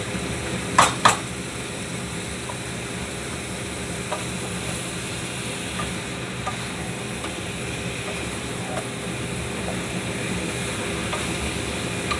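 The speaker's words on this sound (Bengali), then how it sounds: "চিকেনটা দিয়ে আমি কষাচ্ছি।" Pieces of chicken sauté in a pan, sizzling steadily while they are stirred. Two sharp scraping clacks come early, then the frying carries on as a continuous close hiss with no talking.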